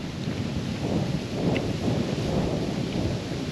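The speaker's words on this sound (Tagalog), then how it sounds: "Ang lakas ng hangin." Strong wind roars and buffets steadily against the microphone at a motorcycle campsite, a dense low rumble that continues throughout with no voices.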